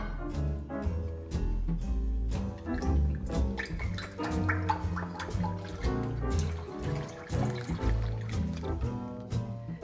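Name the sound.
milk and cream poured into a thick pot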